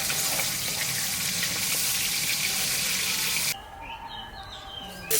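Fish sizzles and spits in hot oil, a loud continuous frying hiss that drops away sharply near the end, leaving quieter background sound.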